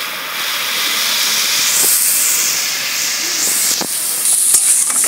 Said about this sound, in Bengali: সেই জলটা এর মধ্যে দিয়ে দেবো